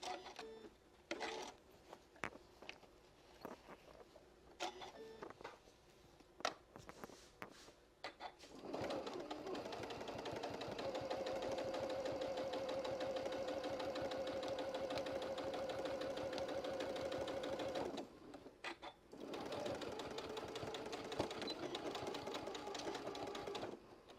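A sewing machine stitches around a fabric casserole cozy in a long steady whirring run of close mechanical buzz, framed by handling clicks and shuffling, with pigeons cooing faintly in the background.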